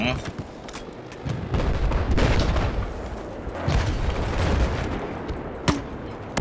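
Battlefield 4 combat with a tank being blown up amid gunfire: a dense, continuous roar of blasts and shots swells and fades across the stretch, with a sharp crack near the end, and faint voices mixed in.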